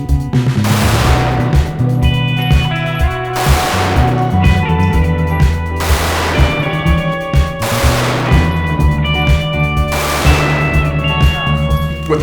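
Five loud, sharp Sig Sauer P320 XC pistol shots fired at a steady, unhurried pace, each crack followed by a ringing, reverberant tail on an outdoor range.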